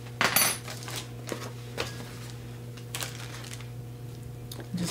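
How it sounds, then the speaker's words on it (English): Fork scraping and clinking against a pan while breaking apart raw ground turkey, a sharp metallic clatter near the start and a few softer taps afterward over a steady low hum. "Just want to cut it in half with our fork."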